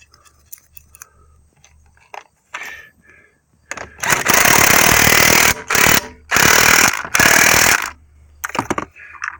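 An impact wrench drives a lug nut onto a car wheel in several short, loud, rattling bursts separated by brief pauses, following quieter handling noises.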